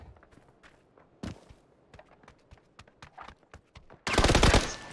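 Gunfire in the video game PUBG: a single sharp shot, then scattered footstep-like thuds, and finally a loud, dense burst of rapid fire at the end.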